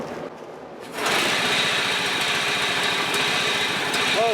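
A John Deere 14SB mower engine at half throttle catches after a brief pull and settles into a steady, loud, fast-running drone.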